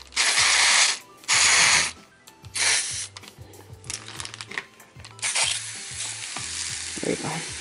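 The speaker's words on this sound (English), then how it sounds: "I'm gonna give it a nice spray, guys, because the dirt is dry." Several bursts of hissing spray, each a second or so long, separated by pauses, from a spray bottle misting dry soil, with faint mechanical clicking and rattling underneath.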